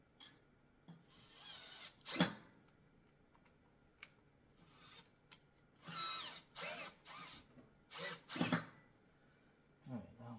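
A power drill backs screws out of a commercial-grade stair stepper exercise machine in several short, loud bursts with pauses between them, close to the listener, and no talking.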